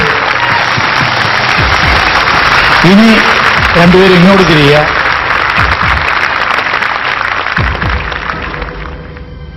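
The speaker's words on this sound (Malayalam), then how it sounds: "രണ്ടുപേർക്കും നന്നായിട്ട് കൈയടിച്ച്." A studio audience claps steadily for two singing-contest finalists at a grand finale, with continuous applause filling the scene while a host speaks over it and brief musical tones rise partway through.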